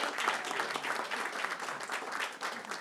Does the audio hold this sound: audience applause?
yes